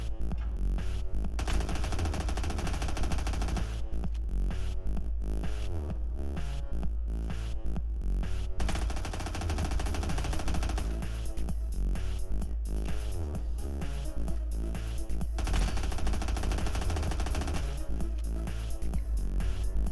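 Sustained bursts of SMG-5 submachine gun fire in the shooter game Badlanders, rapid automatic shots repeating in long strings with short gaps, steady and close throughout.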